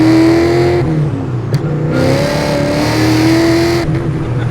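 A tuned car engine revs hard and accelerates close by, with the pitch rising in waves and short breaks between pulls, loud and with no talk over it.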